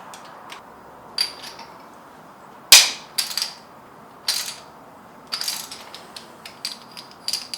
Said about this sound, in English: Good old spark plug wrench.